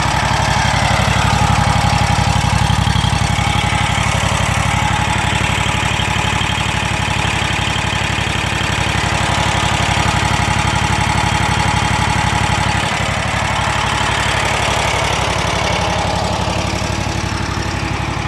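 A Kawasaki FX801V engine idles steadily after a cold start, a loud, close, even rumble with a rapid mechanical chatter running throughout and no voices.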